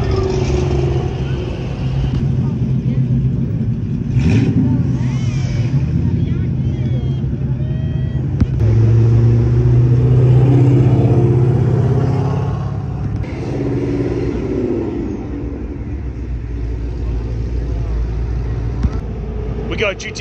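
A Ford Mustang GT350 engine rumbles and revs nearby at a beach car meet, a deep steady growl with swells of acceleration under people talking.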